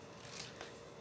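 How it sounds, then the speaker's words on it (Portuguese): Precision scissors snip through paper in a few quick, faint cuts, close up and quiet, with no talking. "Como é uma tesoura de precisão"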